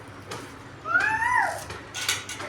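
A child imitates a cat with a rising then falling meow, loud and near, set between short clatters and soft background noise.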